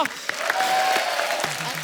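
Studio audience applause on a television comedy talk show, loud dense clapping with cheers throughout, and a voice calling out briefly over it before it thins at the end.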